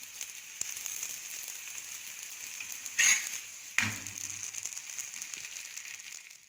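A layered parotta fries in oil on a hot pan with a steady, faint sizzle. Two louder hissing bursts come in the middle, like fresh oil hitting the pan.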